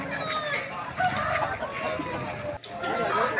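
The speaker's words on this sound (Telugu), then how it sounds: "పుంజు అయితే చాలా బాగుంది ఇది కూడా." A rooster at a rooster market in Vijayawada gives a few short clucks and calls over a busy, chattery background of other fowl and people talking nearby.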